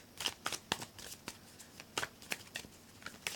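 Tarot cards are shuffled in a quick, faint series of crisp riffling snaps and slides, close by and with no talk.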